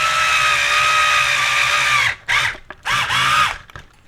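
A power driver runs steadily for about two seconds while sinking 16mm M3 hex cap screws during a roll paper back assembly, then stops and restarts in short whirring bursts as each screw seats.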